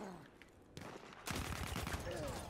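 Gunfire in the video game Battlefield 1, a sudden dense burst of rapid shots that starts partway through and stays loud to the end, following quieter background noise.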